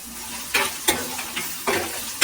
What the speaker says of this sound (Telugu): కొంచెం సిమ్లో పెట్టుకుని వేయించుకుందాం